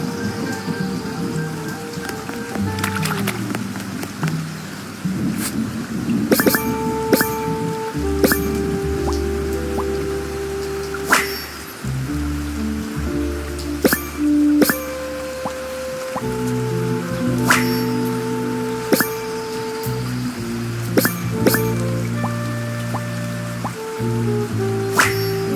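Rain in the video game Duck Detective: The Secret Salami drips and spatters steadily on surfaces, with sharp individual drops over a continuous wet wash, under tonal game music.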